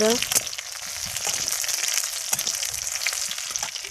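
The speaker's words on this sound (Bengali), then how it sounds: "পেঁয়াজটা দিয়ে ভালো করে ভেজে নিব" Green chili and onion fry in hot oil in a pan, giving a steady, dense sizzle that stays close and loud throughout with occasional crackles.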